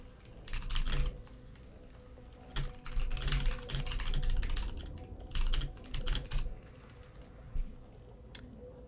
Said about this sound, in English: Yeah, I love this keyboard.